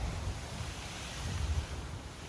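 Ocean waves washing onto the Martinique shore, a faint, steady low surf rumble with some wind noise on the microphone, continuous and without any voices.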